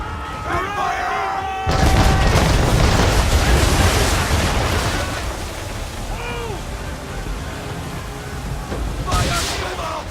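Ship cannons fire in an Assassin's Creed 3 naval battle, a heavy booming broadside erupting loudly and rumbling on for seconds, with shouted voices and another blast near the end.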